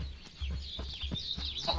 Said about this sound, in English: these bird noises, don't know where they're coming from